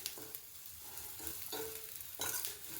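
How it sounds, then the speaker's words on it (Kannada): Sesame seeds roast in a pan, a soft steady sizzle and rustle with a few scraping stirs, quiet and close with no talking. "ಇವಾಗ ನೋಡಿ ಲಾಸ್ಟಲ್ಲಿ ಎಳ್ಳು ಹಾಕ್ಕೊತಾ ಇದ್ದೀನಿ. ಎಳ್ಳು ಬೇಗನೆ ರೋಸ್ಟ್ ಆಗಿಬಿಡುತ್ತೆ"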